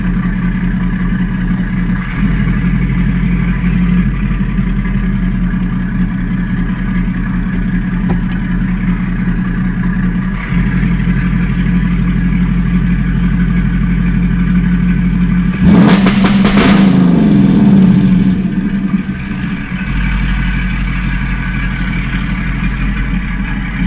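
A car engine with its clutch pushed in is held against a 2,500 RPM rev limiter, a loud steady drone with a brief harsher surge partway through.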